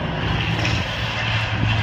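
A Grumman Avenger's piston engine roars steadily at an air show, a loud continuous drone with a low propeller hum held throughout, no voices.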